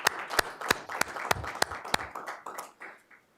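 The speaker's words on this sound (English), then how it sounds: "another round of applause for the work that you do" A small gathering at a Douglas County School District meeting claps in sharp, separate bursts that thin out and fade near the end, a round of applause for district staff.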